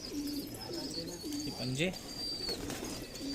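High flyer pigeon from Jalna, Maharashtra, cooing nearby in a few soft, low, rolling phrases while someone speaks briefly and a faint steady whine runs in the background.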